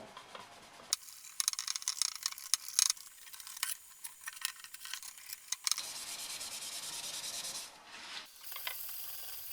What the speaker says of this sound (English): sanding them with 400 grit wet and dry